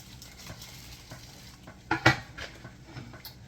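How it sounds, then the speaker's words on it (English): A metal lid scrapes and clanks against a pot of boiling water up close, two sharp knocks standing out over faint kitchen bubbling and hiss. "So I'm gonna move this lid over here."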